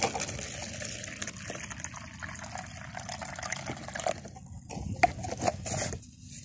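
Water trickles and splashes in a container as a Kumbhakarna caladium plant is soaked in lime water, a steady close liquid sound with small drips and splashes, largely without talk.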